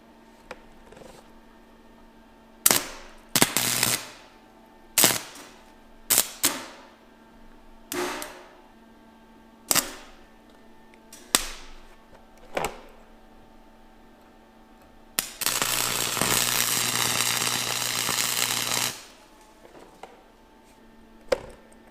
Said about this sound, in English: try and weld this bolt together